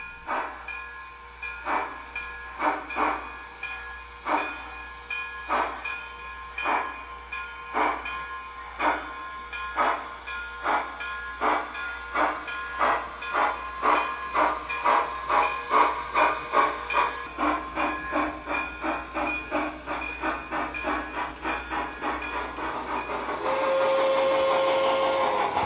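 An O gauge model Boston and Albany tank engine runs on a layout, giving a steady rhythmic clicking chuff that gradually quickens and tightens, ending in a sustained whistle-like hiss near the close.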